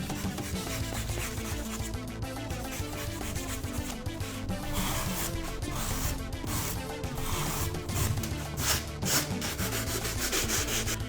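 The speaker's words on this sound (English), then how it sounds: "Before I start sanding, I'm going to start whittling with a knife." A knife whittling a robot head, a continuous dry scraping and rasping of shavings coming off, close and fairly quiet with uneven strokes.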